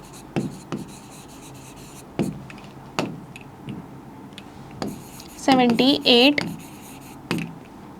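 A pen writes a number on paper in short, separate scratchy strokes, with a few tapping marks and a brief burst of voiced sound near the end, in a quiet room.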